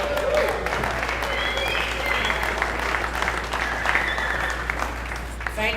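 Applause from a small audience at a Purpose on Tap leadership meetup, a few pairs of hands clapping steadily and close, mixed with chatter, scattered whoops and a low constant hum underneath.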